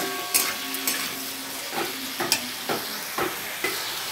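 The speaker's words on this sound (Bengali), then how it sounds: "আমার আলুগুলো লাল লাল করে ভাজা একটু হয়ে গেছে হালকা" Potato pieces fry in hot oil for a light fish curry, giving a steady bright sizzle broken by several sharp clacks of a spatula stirring in the pan. No voices.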